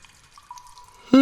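Water drips in a Skyrim cave: a few soft, sparse droplets echo in a quiet space before a sudden louder splash-like tone at the very end.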